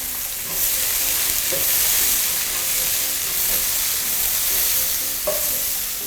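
Shiitake and shimeji mushrooms stir-fry in a pan with a splash of water, a continuous close sizzle broken by a few light scrapes and knocks of a spatula, with no voices.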